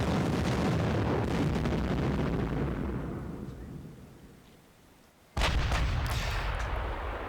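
Artillery fire in the JTS Panzer Campaigns wargame set in the Bulge '44 Losheim Gap battle, a heavy rumbling blast fading out over several seconds before a second sudden boom hits loud.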